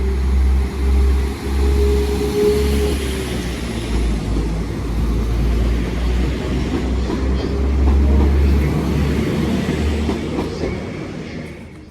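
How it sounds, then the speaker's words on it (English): Transport for Wales train 197118 departs a station, a loud, steady rumble with clickety-clack wheel noise and a brief rising engine tone, heard close by throughout. "leaving now is the 14:20 Transport for Wales service to Manchester Airport from London. No. 197118."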